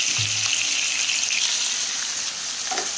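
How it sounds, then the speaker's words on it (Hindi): Onions, about three of normal size, frying in a pan for chicken white karahi, giving a steady, loud and continuous sizzle close by with no talk. "तो ये हमारे तकरीबन 3 अदद नॉर्मल साइज के प्याज थे, वो डाले हमने। इसको हम फ्राई करेंगे।"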